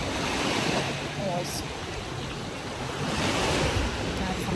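Waves of the Baltic Sea washing ashore at Kołobrzeg, a steady broad surf roar mixed with wind buffeting the microphone, fairly loud and continuous, with no clear talking.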